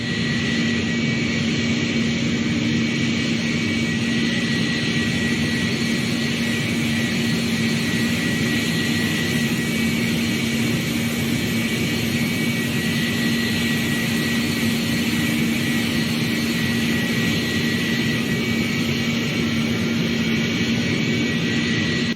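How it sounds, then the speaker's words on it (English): Loud, steady jet engine roar with a sustained whine as the twin engines of a Pratt & Whitney-powered airliner in the Roblox flight game Project Flight spool up, heard from outside, continuous and unbroken with no talking. "So now this time we can actually hear both engines starting up, and this plane is loud."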